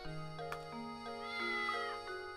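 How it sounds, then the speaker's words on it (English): A cat meows in a drawn-out, tonal call, close and fairly quiet, with a couple of short clicks before it and no talking. "There's the cat again."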